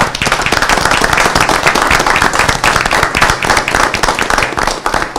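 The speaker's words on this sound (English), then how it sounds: "Can we get a round of applause for our telecommunicators?" Applause at a city council meeting, a dense, steady wash of many hands clapping together, loud and close, continuing without a break and with no talk over it.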